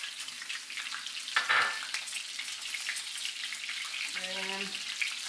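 Garlic frying in a pan for pan-seared salmon gives a steady soft sizzle, broken by a brief louder clatter and a short tonal squeak near the end; no talking.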